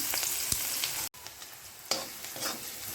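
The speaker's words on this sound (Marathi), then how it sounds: "कढईमध्ये दोन चमचे तेल चांगले तापवून घ्यायचे त्यामध्ये आता थोडेसे हिंग त्यानंतर बारीक चिरलेला एक कांदा चांगला भाजून घ्यायचा" Chopped onion fries in a kadhai of hot oil with a pinch of asafoetida, a steady close sizzle broken by spoon scrapes and a brief dropout near the middle.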